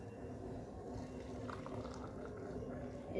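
Boiled water for tea is poured in a soft, steady, faint trickling stream, rising slightly louder at the very end.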